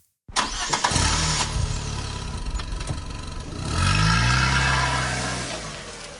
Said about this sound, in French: Le moteur démarre, la voiture s'ébranle.